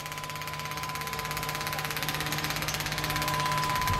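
A 6 kW diesel and petrol separation unit runs with a steady mechanical hum and a fast regular pulsing beat, close and continuous, gradually swelling louder, with no talk.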